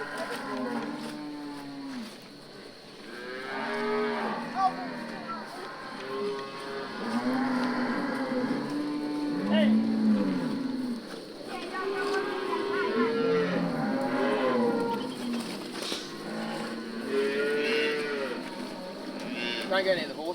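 Cattle mooing outback during a bush muster as a calf is rounded up near horses, repeated overlapping lowing calls from several animals, near and far, continuing throughout with occasional voices underneath.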